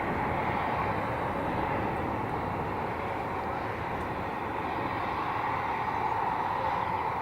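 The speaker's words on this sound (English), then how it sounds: "And coming in from Ireland, it is an Aer Lingus flight." An Aer Lingus airliner arriving from Ireland gives a steady, dense engine roar that holds at an even, loud level throughout, with no distinct breaks.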